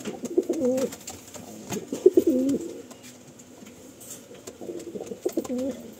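Pigeons in a breeding loft give three separate bouts of low, throaty cooing, close by and moderately loud against a quiet background, with no talk.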